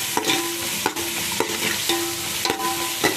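Biryani ingredients sauté in a pan with a constant sizzle, and a spoon scrapes and taps against the metal every second or so. No one speaks.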